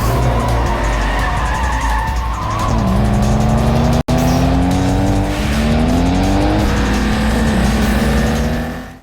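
Race cars roar and accelerate off the line at the start of an illegal street race, engines rising steadily in pitch with tires squealing, loud and continuous throughout.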